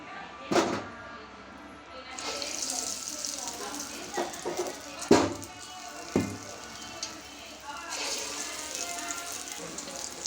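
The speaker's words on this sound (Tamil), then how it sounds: "இப்போ தட்டி எண்ணெயில் போட போகிறோம்." Medu vada dropped into hot oil and frying, a steady sizzle with several sharp knocks and clatters from utensils, close by; a voice talks briefly.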